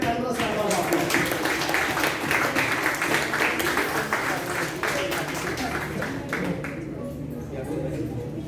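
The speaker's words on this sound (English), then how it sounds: "Please give a thunderous round of applause" Audience at a Toastmasters grand finale applauding newly elected officers, sustained crowd clapping throughout that thins out near the end, with some voices mixed in.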